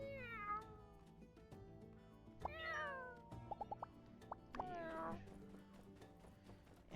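Cartoonish video-game cat meows from My Time at Sandrock, several rising-falling calls spread through the clip, mid-distance and clear, alongside game music, short chimes and someone talking in French.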